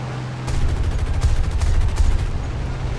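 Rapid cannon and machine gun fire from a War Thunder aircraft battle, with dense, continuous bursts of booming shots over rumbling engine noise, loud and sustained without pause.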